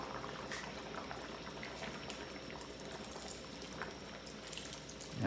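Milk is poured into a pot of boiling pasta being cooked for sopas, giving a soft, continuous liquid pour over the bubbling simmer, close and quiet throughout.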